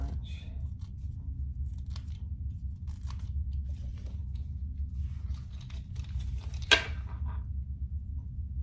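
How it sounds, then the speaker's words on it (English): Scissors snip off a little excess material close by: faint scattered cuts over a low steady hum, with one sharper snip near the end. "Cut off a little bit of excess here, not much."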